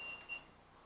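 Two short, faint high-pitched electronic beeps from an Ovilus device sound in quick succession against a quiet background.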